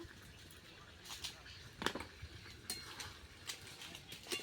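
A spoon scrapes and clinks in a pot of chicken biryani with fried potatoes, with soft, irregular stirring knocks at close range over a quiet kitchen background.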